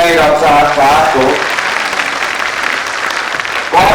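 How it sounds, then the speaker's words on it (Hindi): Loud audience applause at an Independence Day Azadi ka Amrit Mahotsav event at LLRM Meerut; a brief voice opens, then dense, close clapping fills the rest and swells again at the end. "तालियां आपके अपने प्रांगण में कैसे बजते एक बार बजा के दिखाइए डॉक्टर साहब को।"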